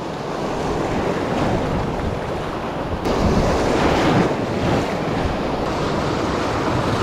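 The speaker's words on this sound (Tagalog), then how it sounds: "lakas ng alon." Strong surf crashes continuously at Ternate, Cavite, a loud broadband roar of breaking waves mixed with heavy wind buffeting the microphone.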